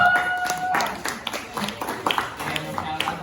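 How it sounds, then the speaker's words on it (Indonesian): A classroom audience applauds a presenting student group, scattered rhythmic hand claps with speech over them, near and moderately loud. "tepuk tangan dulu untuk kelompok 4"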